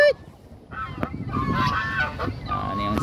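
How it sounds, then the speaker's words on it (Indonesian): A goose honks at a farm in Serdang, giving a nasal call followed by a run of honks close by over faint outdoor background noise. "Nampak angsa, angsa."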